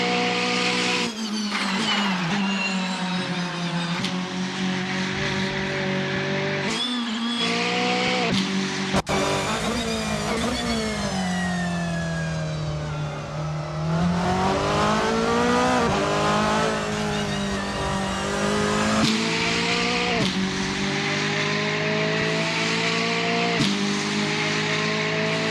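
A Volkswagen Scirocco Silhouette Vortex GC10 race car in Assetto Corsa drives an easy outlap, its engine droning loud and close, pitch rising and falling through gear changes and revs, with no talk.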